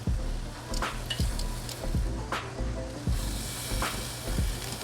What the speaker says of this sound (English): right now what we're going to do is we're going to get some sear marks